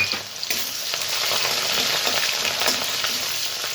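Chopped onions fry in hot mustard oil with bay leaf, dried chilli and whole cumin, a loud, continuous crackling sizzle with occasional stirring scrapes and no voices.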